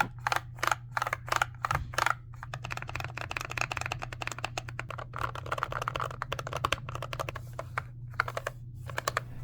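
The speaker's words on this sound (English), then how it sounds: "They are linear switches, and this is what they sound like." Low-profile Gateron red linear switches on an all-button gaming controller are pressed in quick, uneven bursts of sharp clacks, close and clear over a steady low hum.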